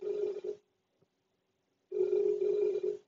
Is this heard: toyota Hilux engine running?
no